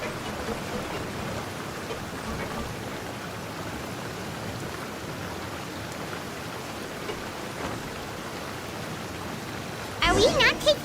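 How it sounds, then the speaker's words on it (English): Steady rain in a Genshin Impact cutscene, an even wash of falling drops and splashes that holds throughout, with a brief louder rustle near the end. "I don't like the rain"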